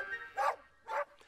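A small dog barks twice in a Thomas & Friends cartoon, two short, separate, moderately loud yaps with a brief pause between them, no talking.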